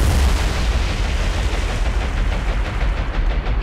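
Armor-piercing bombs dropped from high altitude in a War on the Sea naval battle explode as a continuous loud, deep rumbling roar of blasts that fills the whole stretch.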